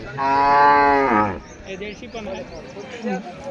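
A cow at a cattle market gives one long, loud moo close by, followed by quieter market background sounds.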